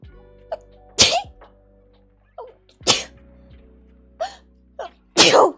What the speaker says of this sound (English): Sneezed. See, I'm saying the truth.